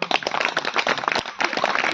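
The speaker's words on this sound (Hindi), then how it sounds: "जोरदार ताली है" Audience clapping at a school alumni association meeting, a dense patter of hand claps lasting about two seconds, fairly close and steady with a brief dip midway, with no talk over it.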